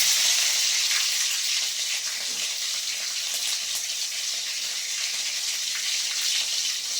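Garlic and green chillies fry in hot oil in a pan, giving a steady, close hiss of sizzling that holds evenly throughout with no talk.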